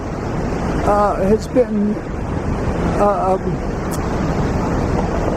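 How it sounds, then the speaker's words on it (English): South Boulder Creek rushing through a narrow V-shaped canyon in Eldorado Canyon State Park, Colorado, a steady broadband roar like wind or surf running throughout, with a voice speaking briefly over it. "you can probably hear Boulder Creek, South Boulder Creek"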